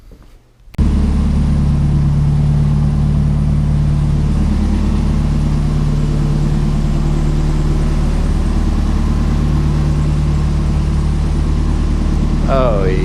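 A Mazda Miata engine cranks briefly and catches, then runs at a loud, steady, rumbling idle up close for several seconds, with a short voice near the end.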